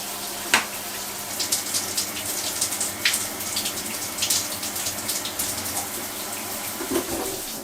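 Mira Go electric shower, just fitted with a new solenoid, running hot water in a steady hissing spray with no air sputter, a few small knocks and splashes over the continuous rush.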